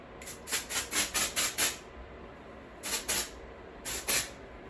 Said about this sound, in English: I have this texturizing spray.